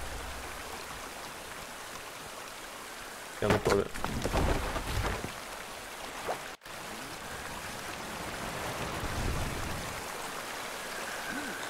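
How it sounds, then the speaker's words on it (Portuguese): Water leaking into a wall in the video game Eternal Hope makes a steady, rushing trickle that runs through the whole stretch, with someone talking briefly over it partway through. "A água tá vazando pra parede."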